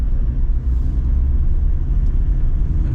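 Toyota Land Cruiser 70 series pickup engine pulling uphill in second gear, a steady loud low-frequency drone and rumble from inside the cab, continuous with no talk.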